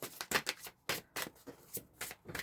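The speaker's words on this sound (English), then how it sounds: "as I was shuffling" Tarot cards being shuffled in quick, crisp riffling bursts, several rapid flutters separated by short pauses, close and clear with no talking.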